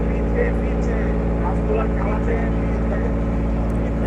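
A boat on Bhatiary Lake in Chittagong drones along with a steady, loud engine hum throughout, while voices murmur faintly over the motor.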